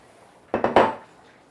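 Carrot sticks and potato wedges land in a pot of simmering beef stew, giving three quick, close clattering knocks in a row, followed by a short fading rattle.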